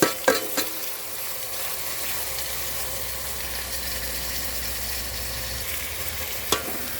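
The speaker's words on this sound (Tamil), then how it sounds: "தக்காளியை நல்லா பொன்னிறமாக மறிக்க நல்லா வதக்கணும்." Tomatoes sauté in a hot pan with an even, close sizzle that holds steady, opening and closing with a few sharp knocks of a utensil against the pan.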